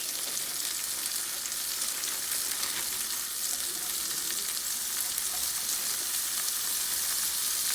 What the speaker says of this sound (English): cook them while they're frozen to get a better sizzle